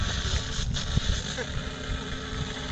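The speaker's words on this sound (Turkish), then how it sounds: "Çok rüzgar var." Strong outdoor wind buffets the microphone in a continuous low roar with gusting rumbles, near and fairly loud, at a field where a Senior Telemaster model plane is flown.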